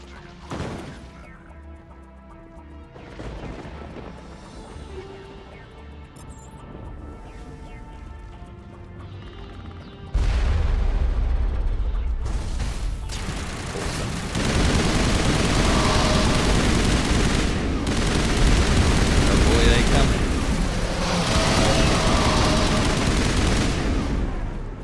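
Heavy shotgun blasts and bursts of gunfire in the video game Mass Effect during a firefight, loud and dense with crashing impacts, growing much louder partway through against a steady game soundtrack.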